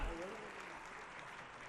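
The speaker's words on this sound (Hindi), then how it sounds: "जोरदार तालियां बजाइए सालगिरह की मुबारकबाद।" An audience claps loudly and steadily at an anniversary celebration during a Telangana state ceremony for National Education Day and Minorities Welfare Day, with a voice faintly audible beneath the applause.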